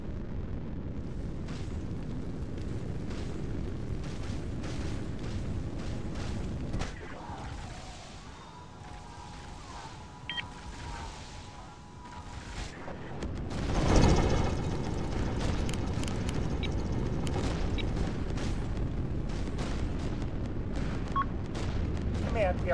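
Naval gunfire and explosions boom through a fleet battle video game, with a heavy blast swelling around the middle and dense rumbling fire continuing after, while voices talk over parts of it.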